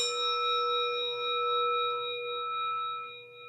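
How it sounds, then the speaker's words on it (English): A struck bell at a Buddhist Sunday service rings on alone, its steady overtones lingering evenly and fading only slightly over a few seconds with a soft low hum beneath. "Here is the after sound of the bell."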